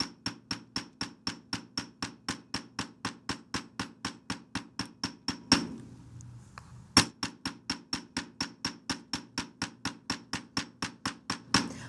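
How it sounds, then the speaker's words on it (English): Steady metal hammer taps on a wire square pendant shaped around jumbo square mandrel pliers, a long even series of sharp close strikes with one brief pause midway. "I'm making sure I just hammer right on top right now."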